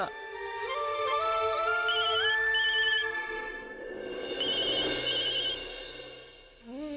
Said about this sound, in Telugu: అభి ఫోన్ చేస్తున్నాడు